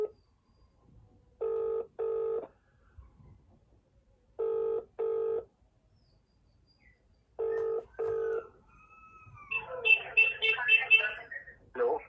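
Outgoing phone call ringback: three evenly spaced double-pulse rings, clear and close, followed by a muffled voice answering on the line.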